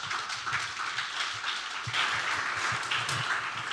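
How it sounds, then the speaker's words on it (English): An audience applauds panelists at a conference session in Croatia, a fairly quiet, even spread of many hands clapping that continues without pause. "please give one applause for them"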